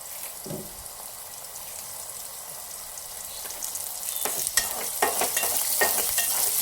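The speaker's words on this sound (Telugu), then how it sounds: "కొంచెం కరివేపాకు వేసుకుందాం." Curry leaves frying in a tomato curry: a quiet, steady sizzle that grows busier toward the end, with a few sharp scraping stirs and spatters.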